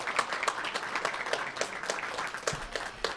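A school board meeting audience gives readers and fundraisers a warm round of applause, with many hands clapping at once and individual claps popping through the steady wash.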